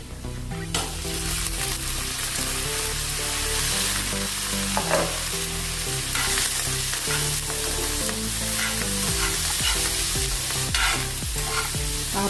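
Finely chopped cabbage stir-frying in a pan, a steady close sizzle with repeated scraping stirs and a faint tonal hum beneath, no voices.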